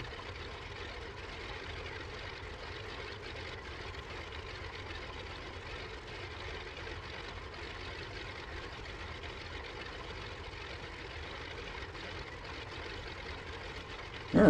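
Ford Trimotor engines taxiing in Microsoft Flight Simulator: a faint, steady propeller drone at low power that holds level throughout, ending in a sudden brief louder burst.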